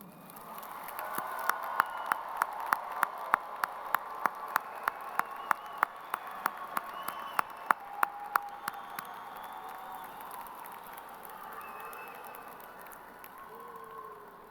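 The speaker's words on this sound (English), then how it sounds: "Why don't we give him one last round of applause?" A large audience at a University of Memphis commencement ceremony gives a sustained round of applause, a steady wash of many hands clapping in a big hall, heard at a moderate distance for the whole stretch.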